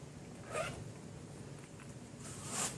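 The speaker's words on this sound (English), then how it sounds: "both of which have self-healing zippers that are unlikely to break with extremely strong zipper pulls" A self-healing zipper on a rugged carrying case is pulled in two quick, faint zips, one near the start and one near the end, with quiet background hiss between.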